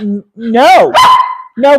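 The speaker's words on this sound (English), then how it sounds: "No barking. I said no barking." A small dog barks loudly and close by in several sharp, whiny yips with brief gaps between them, indoors during a cake-leftovers livestream.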